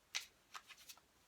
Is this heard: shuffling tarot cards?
yes